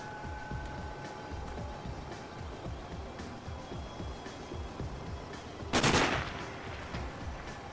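Gunfire in the video game Sniper: Ghost Warrior, aimed at the player: a dense, steady rattle of rapid shots throughout, with one sharper, louder blast near the end.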